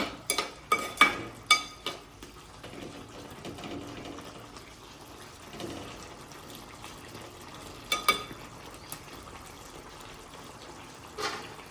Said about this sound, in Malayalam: നന്നായിട്ടൊന്ന് ഇളക്കിയിട്ട് മൂടി വെക്കാം